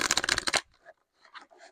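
A tarot card deck being shuffled: a brisk, close riffle of cards for about half a second, then a few faint soft taps and slides, with no talking.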